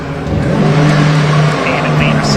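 A Ginetta race car pulls away into the pit lane at the Silverstone Grand Prix circuit, its engine a steady, loud drone held at pit-lane speed, with a commentator talking over it.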